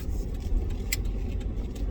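Steady low road rumble inside a Ford Expedition SUV while driving, a continuous engine and tyre drone with faint brief ticks above it.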